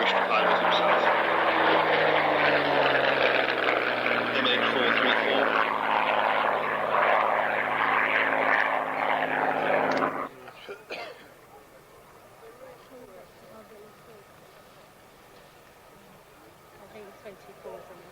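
A propeller aircraft roars loudly overhead at an airshow for about ten seconds, its engine pitch sliding downward as it passes, then cuts away to faint background noise.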